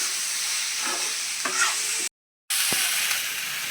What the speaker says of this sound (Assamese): এতিয়া লাৰি দিছে